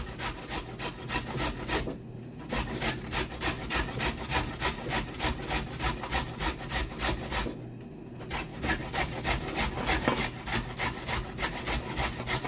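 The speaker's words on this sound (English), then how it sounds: "I don't have a shredder for the cabbage, so I'll do it on this side of the grater as well." Cabbage rubbed down the coarse side of a hand grater in the kitchen gives fast, even rasping strokes, loud and close, with two short pauses between runs.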